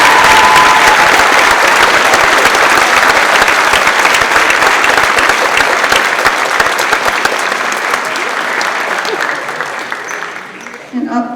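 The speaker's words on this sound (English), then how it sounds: "Let's give them a huge round of applause." Loud, close applause from an audience at a 7th and 8th grade awards ceremony, a dense rush of clapping that holds steady before thinning and stopping near the end.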